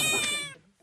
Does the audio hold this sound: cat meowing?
yes